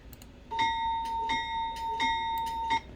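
An ESU LokSound decoder bell in a Kato N-scale Amtrak P42 model locomotive rings in four even, metallic clangs at a steady pace, clear and close, over a quiet background.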